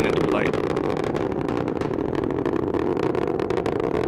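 A Delta IV Heavy rocket with strap-on boosters at full thrust, one minute into flight, makes a loud, steady, dense roar throughout, with a voice talking over it.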